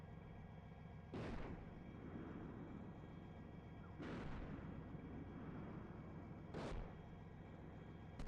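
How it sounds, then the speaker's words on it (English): Three heavy mortar blasts in the tank simulator Steel Beasts Pro PE, landing on a hill about two kilometres away. Each boom rolls off into a rumbling decay, spaced a few seconds apart over a constant low engine hum. "Six is firing mortars on a hill 2 clicks north of us"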